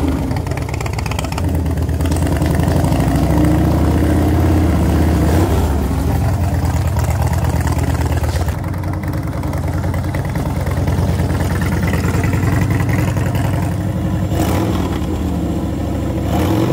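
An Orange County Chopper motorcycle engine, rigged to pull a chariot, runs steadily nearby with a loud, continuous rumble, briefly revving and easing off.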